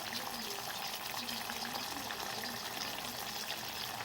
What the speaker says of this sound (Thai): ผัดกระดูกหมู แล้วก็เติมน้ำขุกขิก